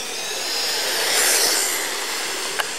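A 1/16-scale Exceed RC Magnet electric off-road truck at full throttle produces a brief, bright, hissing motor whine that swells in the middle and then fades slightly, with no voices.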